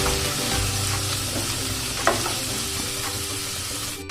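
Potatoes and banana flower with lentils sizzle steadily in a hot pan during Assamese home cooking, a continuous close frying hiss with a brief scrape of stirring partway through.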